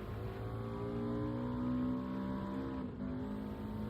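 A race car engine in Gran Turismo 7 revs steadily at high pitch, the tone rising and holding, then briefly dropping and picking up again, loud and continuous.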